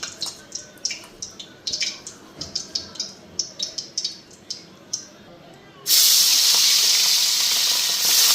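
Fish hisses and sizzles in hot oil in a pan (kadai) in a home kitchen, turning from scattered soft spattering pops into a loud, steady, close frying roar.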